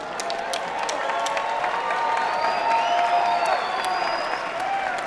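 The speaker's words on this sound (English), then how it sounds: "let's have a nice round of applause for both fighters" Crowd in an arena applauding two bare knuckle boxers after five rounds, sustained dense clapping with some cheering, moderately loud and steady throughout, while an announcer's voice sits faintly underneath.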